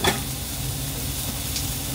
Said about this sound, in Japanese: ビジビジ音がしてるよ、あんた。